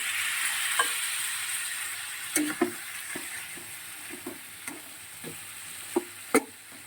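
Vegetable curry sizzles in a pan after water is poured in, a steady bright hiss broken by a series of sharp spatters and spoon knocks spread irregularly across the clip.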